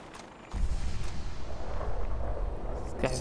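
Missile explosions in the Fallout 4 video game, a sudden loud blast after half a second of quiet, followed by a sustained rumbling boom and crackle with another sharp burst at the end.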